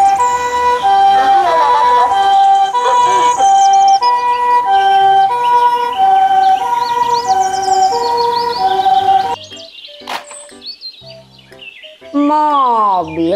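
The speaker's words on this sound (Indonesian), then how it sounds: "mobil ambulans" A toy ambulance's electronic siren wails in a repeating toy-like pattern with chirpy tones, then stops briefly before warbling again.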